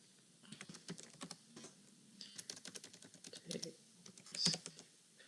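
Keys clatter on a computer keyboard as a code comment is typed, in close, irregular bursts of quick taps separated by brief pauses, with no voices.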